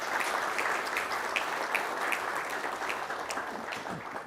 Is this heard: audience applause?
yes